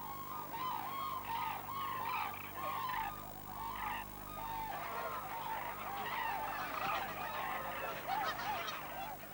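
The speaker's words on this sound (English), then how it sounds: "even more Siberian cranes are still arriving" A flock of Siberian cranes, some with brown young, arriving at a wintering site in China: many overlapping honking, bugling calls sound continuously at a moderate distance.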